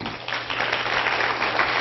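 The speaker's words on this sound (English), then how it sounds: "how many people have seen Avatar by applause?" A conference crowd at a UFO event bursts into brief, fairly loud applause that fills the whole moment.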